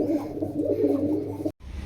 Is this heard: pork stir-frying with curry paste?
no